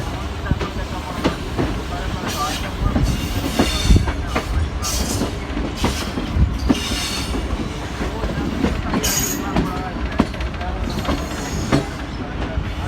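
Millat Express passenger train running through a curve near a junction on a branch line, with a continuous loud rumble, rhythmic wheel clatter and intermittent high wheel squeal, heard from on board.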